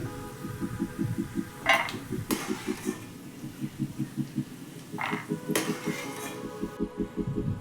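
Fried peanuts being spooned onto a plate while Karnataka-style tomato chitranna is made: repeated close metallic clinks and scrapes of spoon on plate, with a steady low kitchen hum beneath.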